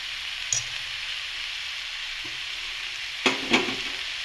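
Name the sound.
frying cabbage with green chili paste, stirring and sizzling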